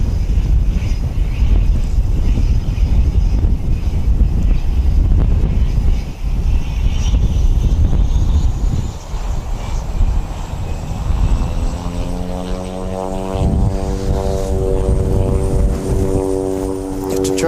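Qantas airliner on flight QF161 landing at Wellington Airport, a loud sustained engine roar with rising whine and buffeting wind noise on the microphone outdoors.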